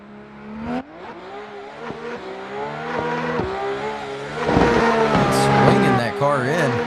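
A Nissan S15 drift car slides through a qualifying run at Pittsburgh, its engine revving and bouncing between high wails as tires scrub, growing louder and nearer while a commentator talks over it.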